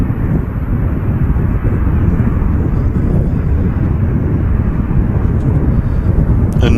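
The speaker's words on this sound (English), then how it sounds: "EasyJet on the roll to Jersey" An easyJet airliner at Manchester Airport powers down the runway on its takeoff roll, a loud, steady engine roar with wind buffeting, holding strong throughout and nearly free of talk.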